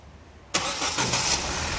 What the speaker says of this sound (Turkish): Bas marşa.